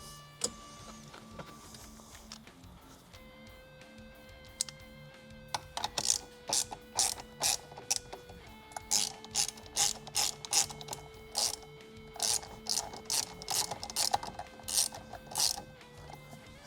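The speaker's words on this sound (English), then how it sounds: "Put the nut back on." A hand ratchet clicks close up as it tightens a nut on a car steering wheel during installation, with a rapid run of sharp clicks coming in bursts with brief pauses.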